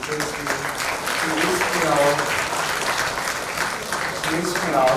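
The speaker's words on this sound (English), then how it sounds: "I want you to just give a round of applause for her" Audience at a university hackathon event claps steadily, a continuous wash of applause with faint voices and some tonal sounds mixed in.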